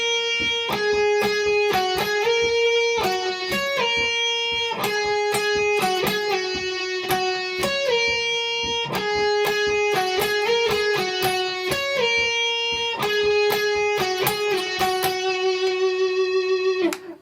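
Electric guitar plays the intro riff of a song as a quick, steady run of picked single notes with a lightly effected tone, close and continuous for the whole stretch, no voices.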